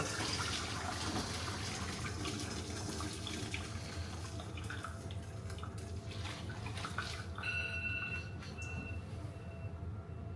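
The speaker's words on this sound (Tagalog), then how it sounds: "So let's drain the water." Pasta water pouring out into a kitchen sink, a continuous rushing splash for about ten seconds with clattering near the end.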